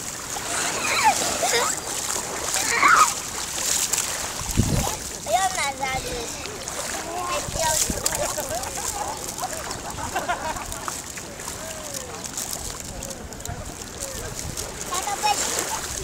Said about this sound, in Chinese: 浪来喽！